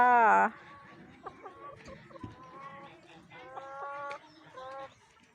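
Chickens on a farm near Steinhuder Meer in Germany, an open-air farm setting with poultry nearby, give short repeated harmonic clucks and calls in clustered bursts, with someone speaking briefly at the start.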